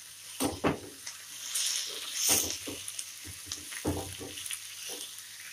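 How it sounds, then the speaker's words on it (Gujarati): Chopped tomatoes drop into a pan of softened onions and fry, giving a quiet sizzle broken by clattering stirring knocks and scrapes of a spoon. "આપણે હવે એમાં એડ કરીશું ટોમેટોઝ. આને પણ સરસ ફ્રાય કરી લઈશું."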